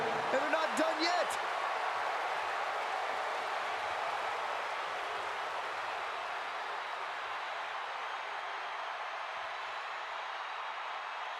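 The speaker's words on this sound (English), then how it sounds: "Listen to the WWE Universe. They're singing along, and they're not done yet." A roaring virtual arena crowd at WrestleMania in WWE 2K25 chants and sings along to Seth Rollins' entrance, a loud, sustained wash of voices that slowly eases off, with a brief sharp burst at the start.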